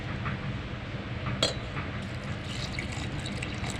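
Water pours steadily into a mixer jar holding rice for grinding, a soft continuous liquid rush with one sharp clink partway through.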